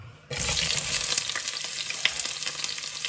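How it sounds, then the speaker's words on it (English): Onions hitting a hot pan for a chicken curry, a sudden loud sizzle that starts after a brief quiet moment and then holds as a steady, crackling fry with small pops throughout. "I'm gonna get these onions in"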